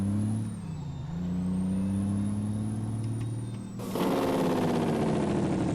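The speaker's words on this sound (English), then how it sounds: "this has this stupid loud Jake brake in it" A truck's Jake brake in a trucking video game, a loud, droning engine-brake blat with a pitch that dips and recovers, then a harsher, louder rattle bursts in near the end; no talking.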